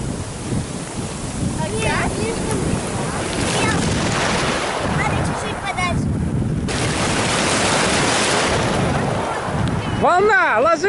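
Black Sea surf at Agudzera beach, Abkhazia, surges and breaks close by, heavy with wind buffeting the microphone; a brief voice-like sound near the end.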